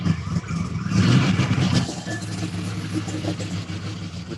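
A garage-built 1973-74 Chevy Nova V8 revs up close and loud, then settles back into a lumpy, rumbling idle.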